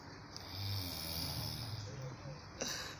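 A sleeping child snores steadily up close, a low rumbling breath sound under quiet room noise, with a faint click near the end.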